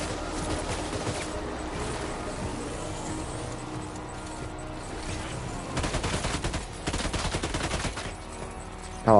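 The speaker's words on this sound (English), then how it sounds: "Where the fuck are you shooting from?" Bursts of gunfire in Death Stranding 2 crackle through a busy game soundscape, with rapid automatic volleys clustering toward the end over a steady background rumble.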